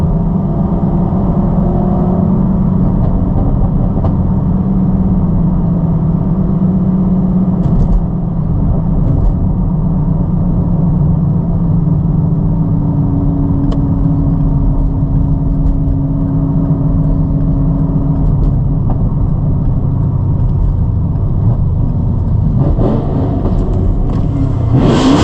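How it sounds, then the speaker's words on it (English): Loud, continuous Chevrolet Camaro SS engine rumble with rising and falling revs, close up and steady for the whole stretch, with no voices, during a night drive. "This car sound crazy."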